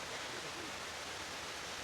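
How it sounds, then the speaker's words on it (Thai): Waterfall at Wat Pha Lat temple in Chiang Mai, a constant dense wash of rushing water, fairly faint and even, with no breaks. "มีน้ำตกแล้ว"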